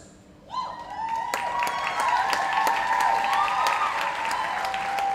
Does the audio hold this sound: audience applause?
yes